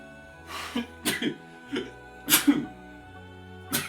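A short sneeze bursts out among a few brief vocal sounds and breaths, close to the listener.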